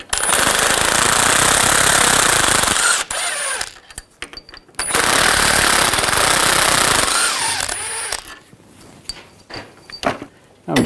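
An impact tool with a 15mm socket hammers loose the lower shock bolts on a 2014-2018 GMC Sierra, giving loud sustained rattling bursts separated by short pauses, with clanks and tool handling sounds between them.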